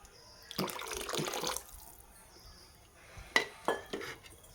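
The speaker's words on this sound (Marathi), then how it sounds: "अजून थोडंसं पाणी घालूया त्याच्यामध्ये" Water is poured in a short splashing rush into a pot of boiling Marathi-style dal (varan) on a gas stove, followed by a few drips and light knocks against the pot.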